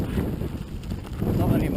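Wind buffets the microphone while a mountain bike is ridden on trails at Afan, producing a continuous low rumbling roar that stays heavy and close throughout the short moment.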